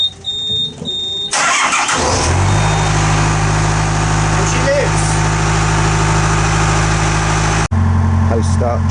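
A narrowboat diesel engine starts up and settles into a steady, loud running idle with a constant low throb that holds for several seconds before a brief cut and resumes, a voice talking faintly over it.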